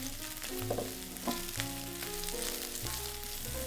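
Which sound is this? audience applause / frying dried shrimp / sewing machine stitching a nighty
frying dried shrimp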